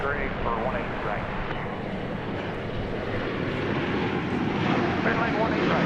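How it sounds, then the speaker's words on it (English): An American Airlines jet on approach to land on runway 18 right at DFW, a broad steady engine roar at moderate distance, with a voice talking over it. "Here comes American Flight 2593 from Minneapolis, St. Paul"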